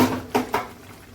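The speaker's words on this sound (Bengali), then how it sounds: "মাঝখানে খুন্তি চালিয়ে জাস্ট এরকমভাবে ধরে যাতে না যায় মাঝখান থেকে, এইভাবে নাড়াতে হবে" A spatula stirring boiled potatoes for aloo dum in a pan, two quick scraping knocks against the metal in close succession, close and clear with no talk.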